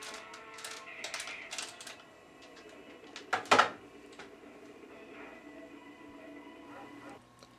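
A Nintendo 64 controller being worked during Mario Kart 64 play gives soft, rapid plastic button and stick clicks, fairly faint and close, with a brief louder clatter midway.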